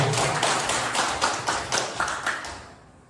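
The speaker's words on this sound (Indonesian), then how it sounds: "Sebelumnya kita beri tepuk tangan yang meriah untuk Bu Rika." Indoor audience at a school event applauds warmly for Bu Rika, a burst of close, lively hand clapping with rhythmic peaks that fades out near the end.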